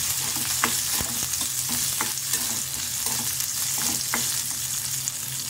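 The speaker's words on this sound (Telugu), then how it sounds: "కరివేపాకు ఇవి కొంచెం ఫ్రై అవ్వాలి" Sliced onions and curry leaves frying in a pan for a green gram dal, a loud continuous sizzle with periodic light spatula clicks and scrapes at a steady stirring rhythm, no speech.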